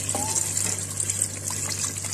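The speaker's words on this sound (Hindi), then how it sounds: "अब मैं पानी डालती हूँ।" Measured water pours steadily into a cooking pot for chicken pulao. A continuous close gush and splash plays over a low kitchen hum.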